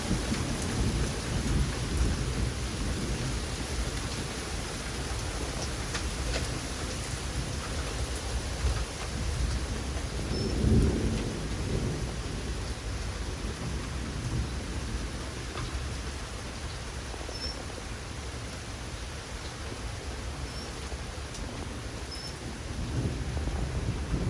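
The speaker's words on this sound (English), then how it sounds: "it started to rain for the first time since I've lived here, and I was so excited that I could sit out on the patio and listen to it rain." Steady rain pours over a vintage screened-in patio, a dense, even hiss throughout, with a low thunder rumble swelling near the middle; no voices.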